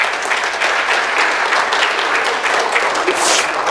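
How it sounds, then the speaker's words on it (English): Live audience applause during a motivational guest-speaker session, a steady dense wash of many hands clapping at once, loud and sustained throughout with no talking over it. "But please do clap."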